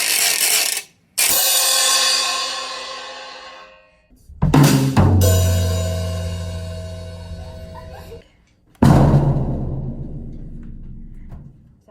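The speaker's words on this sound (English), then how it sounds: "This is a ratchet and it sounds like a roller coaster." Ratchet percussion instrument cranked in long bursts, a dense rapid clicking rattle that runs several seconds at a time, loud and close, with short pauses between three separate turns.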